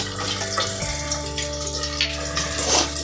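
Fish frying in hot oil gives a steady, dense sizzle that hisses continuously and close up, with a low hum running underneath.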